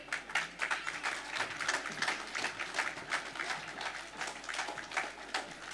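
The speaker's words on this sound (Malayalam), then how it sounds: "എല്ലാവരും ഒന്നും കൂടി ഒന്ന് കൈയടിച്ചേ" Audience clapping in a hall during a welcome speech at a 2024 association event, a steady dense patter of many hands sustained throughout, moderately loud with no voices.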